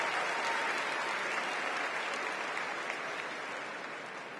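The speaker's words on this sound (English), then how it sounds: "Let's give Brian and Sandra another round of applause." A large crowd at the Democratic National Convention in Chicago applauds steadily, a dense and continuous wash of clapping that fades slightly toward the end.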